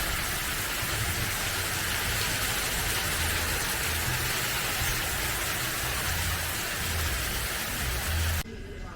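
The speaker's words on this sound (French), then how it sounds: "Il pleut vraiment." Heavy tropical rain pours down steadily in Thailand, a dense, loud broadband hiss of drops hitting surfaces that fills the whole stretch before cutting off abruptly near the end.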